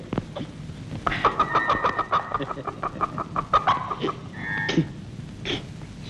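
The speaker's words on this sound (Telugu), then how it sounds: "ఏమిటిది కోడి కోడా" A live chicken in a Telugu comedy film scene clucks and squawks loudly and close by, a rapid series of sharp calls with no talking over them.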